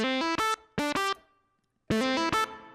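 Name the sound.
reverb effect on a synth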